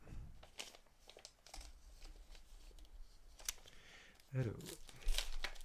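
A gift-wrapped package, apparently holding a tarot deck, is unwrapped with soft bursts of crinkling and rustling paper that grow louder near the end. The sounds are quiet and close, with a brief spoken word.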